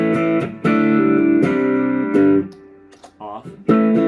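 Electric guitar through a Strymon Deco V2 tape saturation and doubletracker pedal with the distortion lowered plays several strummed chords and short notes with brief pauses between, loud and close, with no one talking.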